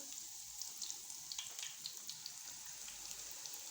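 Eggplant slices frying in hot cooking oil, a steady crackling sizzle with scattered sharper pops and spits throughout, close and fairly quiet, no voices.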